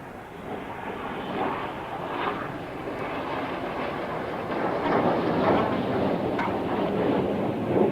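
Red Arrows display jets fly a corkscrew roll at the Eastbourne International Airshow, their engines a continuous broad roar heard from a distance that swells slightly near the end.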